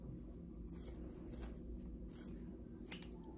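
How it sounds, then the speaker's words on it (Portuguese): Scissors snipping through striped linen fabric, several soft, close crisp cuts in a quiet room, each a short brushing snip spaced about half a second apart. "Eu vou cortar aqui, ó."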